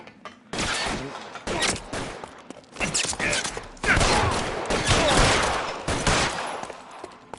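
Gunfire in the video game L.A. Noire, loud rapid bursts of shots in dense clusters throughout, with a voice speaking between volleys.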